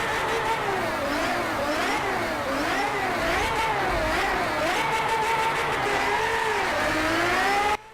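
A Ferrari 599 Evo in the racing game The Crew 2 revs hard, its high, screaming engine note rising and falling through repeated throttle blips, loud and steady, ending abruptly.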